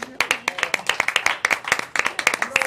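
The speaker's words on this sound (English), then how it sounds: "You can give a round of applause." A small audience claps at an anniversary talk show, distinct individual hand claps in an uneven rhythm, fairly close and sparse rather than a dense roar.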